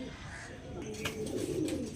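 Pigeons coo in a low, brief burble that grows a little louder toward the end, heard alone over faint room noise.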